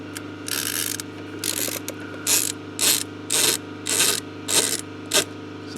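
A screwdriver works a screw into a Jeep Liberty, giving about eight close, rhythmic ratcheting bursts that grow shorter and more clipped toward the end, with a steady low hum underneath.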